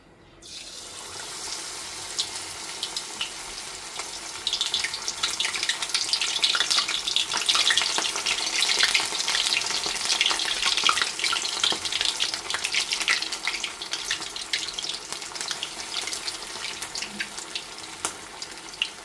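Chicken lollipops frying in hot oil give a steady, dense crackling sizzle that swells after a few seconds and holds close and even, with no talk.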